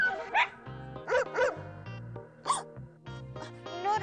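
Several dogs bark and yip in short, bouncy bursts, close and fairly loud, with whimpering notes between the barks and little talk.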